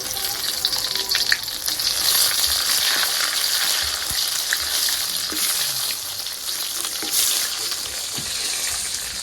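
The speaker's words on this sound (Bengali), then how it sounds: "এখানে 2 ভর্তার জন্য শুকনো মরিচ নিচ্ছি, তেলে ভেজে নিব।" Dried red chillies fry in hot mustard oil with a dense, even crackling sizzle that holds steady throughout, close and fairly loud, with a few faint clicks and no talking.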